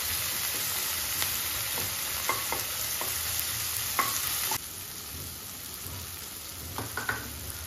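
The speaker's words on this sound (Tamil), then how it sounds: "தக்காளி வந்துட்டு நல்லா வந்துட்டு குழைய வந்துட்டு வதக்கலாம்." Tomatoes sautéing in a pan for a masala-based lunch curry, giving a steady close sizzle with scattered clicks of stirring and scraping throughout, no voices.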